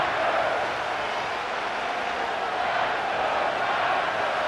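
Stadium crowd roaring and cheering in the Madden NFL 25 football video game during a Rams vs. 49ers game, a dense, steady wall of crowd noise throughout.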